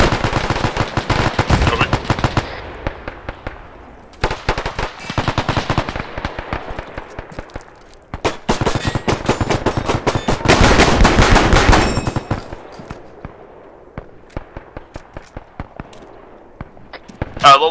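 Machine gun fire in a WW2 video game, loud and sustained, with long rattling bursts broken by short pauses and a few lighter scattered shots, with voices talking over parts of it.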